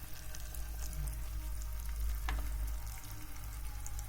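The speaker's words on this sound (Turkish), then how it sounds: "ikisinin ortası bir yağla kızartıyoruz." Steady, dense sizzle of Black Sea anchovies frying in a pan of hot oil, a continuous crackling hiss with occasional sharper pops, close and even throughout.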